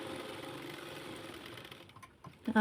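A sewing machine runs steadily, stitching the side seams of a plain lined blouse, with a soft continuous whir that slows and stops, followed by a few clicks and a brief thump at the end.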